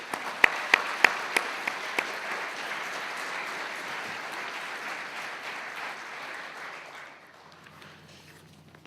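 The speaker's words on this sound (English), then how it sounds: "I think they all deserve a round of applause for being nominated." An audience applauds award nominees at a live event, with a few sharp early claps swelling into sustained steady clapping that fades toward the end, heard without talk.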